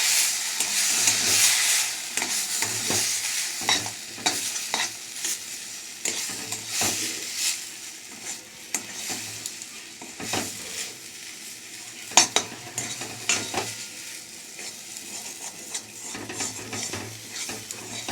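Roasted semolina stirred constantly in a pan as small splashes of water go in, steady scraping and clattering of the spoon against the metal with a soft sizzle underneath, close and continuous, no talking.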